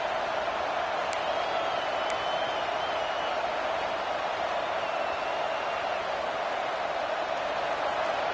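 A large football stadium crowd roars in a sustained, even wash of cheering on a big third down, loud and continuous, with a couple of sharp whistles near the start.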